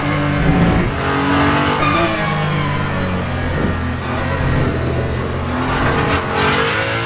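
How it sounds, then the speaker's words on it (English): A race car engine in the video game Le Mans Ultimate roars and revs loudly as tires squeal through a sideways slide, the sound continuous and close with no voices. "That was just a hair too early, and the car just kicked sideways."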